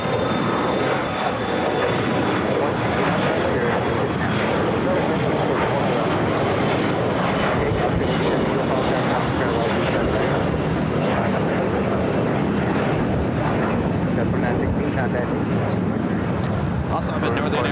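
Korean Air Boeing 747 on short final for runway 24 right at LAX, a continuous loud jet engine roar held steady throughout.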